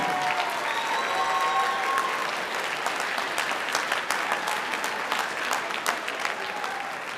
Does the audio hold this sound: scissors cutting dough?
no